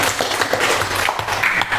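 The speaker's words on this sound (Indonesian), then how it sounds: "Beri tepuk tangan untuk Mbak Sophia" An audience applauding at a quiz or competition event, a dense steady wash of clapping from many hands that stays loud and even throughout without pause.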